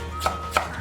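A knife cuts through garlic cloves on a board, two crisp close chops about a third of a second apart.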